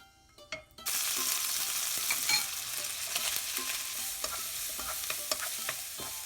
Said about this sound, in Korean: 화자오를 볶아 향을 내고 알갱이는 건져낸다